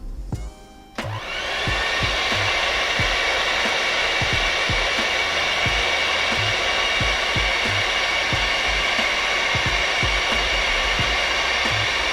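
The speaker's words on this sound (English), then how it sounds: "I'm gonna get my blow dryer and I'll be back." A hair dryer switches on after a brief click and blows in a steady, loud whoosh that continues unbroken, with faint ticking underneath.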